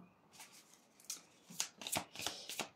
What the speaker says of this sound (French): Je crois que je me suis coupée avec les cartes.